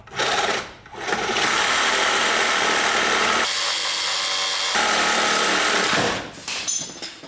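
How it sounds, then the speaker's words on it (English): A Sawzall reciprocating saw cuts through a bolt on a Mazda RX7 (FC) under restoration, a loud sustained buzzing rasp in several long bursts with short pauses between them. "I think this is a Sawzall kind of job."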